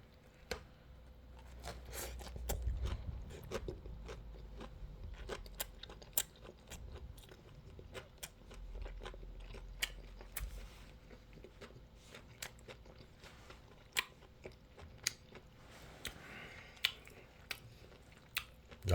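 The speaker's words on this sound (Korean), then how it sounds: "자, 그러면 이렇게 한번 먹어볼게요." Someone eats boiled pork, simmered about thirty minutes with onion, together with homemade kimchi, making soft close chewing and crunching with sharp clicks throughout and no talk.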